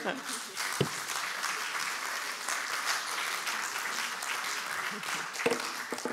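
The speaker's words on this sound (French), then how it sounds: "Vous pouvez applaudir" Audience applause at a talk on African women's leadership, a continuous, fairly soft wash of clapping lasting several seconds with faint voices and a couple of brief knocks.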